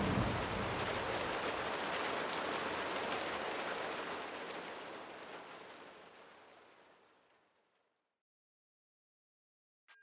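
Steady rain falls during the rainy season, a dense broadband hiss that holds for several seconds, then gradually fades away into silence.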